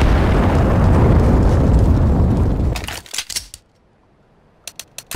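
A grenade blast in CS:GO roars loud and broad for nearly three seconds, then drops away into scattered crackles and a few sharp clicks near the end.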